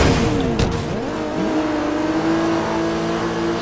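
A Lamborghini-like supercar in the open-world action game Sleeping Dogs Definitive Edition drives with a steady engine drone and rising, shifting rev tones, loud and continuous throughout with no talk.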